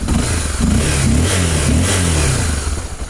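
A Honda XRE 300 motorcycle engine revs up from a normal, steady idle, rising and falling in pitch with a loud, close, throaty rumble.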